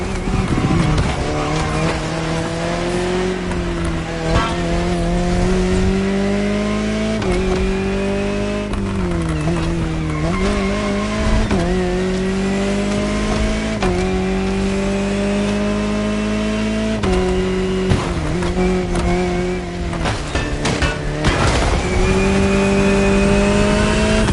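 A Jaguar CX-75 concept car in the racing game The Crew Motorfest drives hard, its engine droning steadily and rising and falling in pitch through gear changes, with brief tire squeals, loud and continuous throughout.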